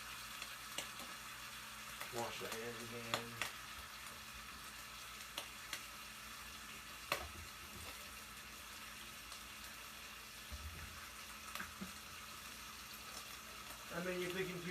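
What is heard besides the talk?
bacon frying in a pan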